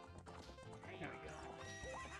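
In the video game The Legend of Zelda: Ocarina of Time, a horse whinnies over hoof clip-clops, quiet and layered with game music and chatter.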